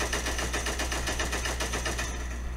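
Rapid automatic gunfire in the video game Cyber Hunter, a loud, steady stream of evenly spaced shots that stops shortly before the end, with no speech.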